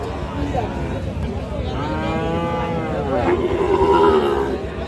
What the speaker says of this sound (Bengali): খুবই চমৎকার একটা সার বাছুর দেখতেছি